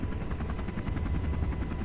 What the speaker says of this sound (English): the plane spun out of control and